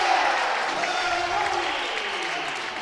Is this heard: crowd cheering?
yes